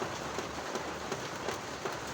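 Heavy rain pours down steadily, a dense, loud hiss with scattered drops pattering on a surface.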